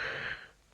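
A cartoon character gives a short breathy yawn that fades out quickly, soft and close, with no talking.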